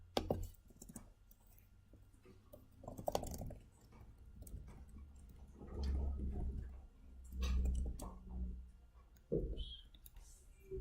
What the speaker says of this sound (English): I'm going to start typing up the homework.